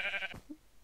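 A Minecraft sheep gives one short nasal bleat, fairly close and clear, fading into quiet.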